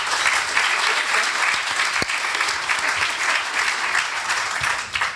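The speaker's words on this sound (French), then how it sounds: "très applaudi" Audience applause at a conference session, a sustained, fairly loud wash of clapping from many hands that holds steady throughout.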